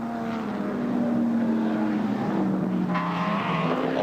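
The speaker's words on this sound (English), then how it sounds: "And then comes the number 3 car from New Zealand, the BMW driven by Kent Bagent." Touring race cars at the Bathurst circuit, including a BMW, roar past with a loud, sustained engine drone whose pitch slides as they pass, with a second engine note rising near the end.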